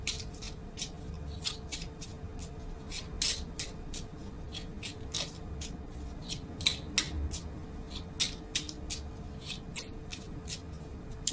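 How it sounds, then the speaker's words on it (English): A tarot deck is shuffled over and over, its crisp riffling snaps repeating in a quick, steady rhythm close to the microphone against a soft background hum. "Actually, why I keep shuffling?"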